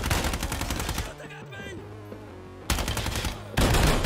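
Shotgun fire in Ground Branch: loud, dense blasts of gunfire, broken by a quieter gap with metallic ringing, then heavy firing returns in strong bursts near the end.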